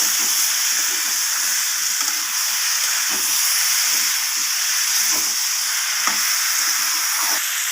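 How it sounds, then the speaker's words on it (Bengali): Fried pointed gourd (potol) and vegetables sizzle and hiss steadily in a hot pan while being stirred for a prawn curry. The frying is close, constant and uninterrupted, with no voices. "পটলগুলো দেওয়ার পর আবারও সব কিছু ভালোভাবে আমি কষিয়ে নেব"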